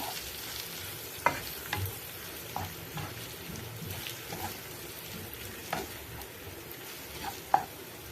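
Egg noodles are stirred with onion and masala in a pan, a soft steady sizzle broken by scattered scrapes and taps of the spoon against the metal.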